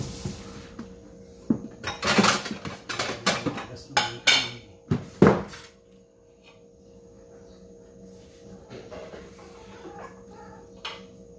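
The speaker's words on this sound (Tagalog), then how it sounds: "Maghiwa ako ng ilang piraso ng mangga para pang himagas naman." A knife slicing mango pieces in a home kitchen during rushed breakfast preparation: a run of close, loud knocks and clatters on a board, then quieter, sparser taps.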